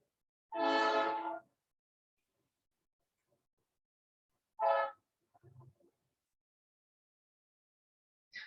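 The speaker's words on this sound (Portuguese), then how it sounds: "desculpe o barulho aí do trem, que eu moro perto da via férrea" A train near a railway line sounds its horn in loud, sustained blasts: one long tone, a shorter second blast and the start of a third, with faint rumbling between them and otherwise quiet.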